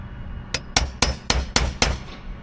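Six sharp metallic knocks in steady succession, close and loud, as a stainless steel screw is driven hard into copper roofing on a steeple.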